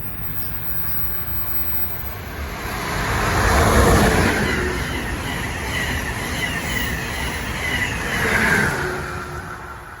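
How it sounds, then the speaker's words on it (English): Steady road traffic at Princeton Junction in the morning, a continuous broadband rush of passing vehicles that swells twice as nearer cars go by, with no voices. "Morning traffic."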